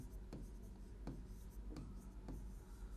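Someone writes on a board during a biology lesson, making short scratchy strokes in a loose rhythm. The strokes are faint over a steady low background hum.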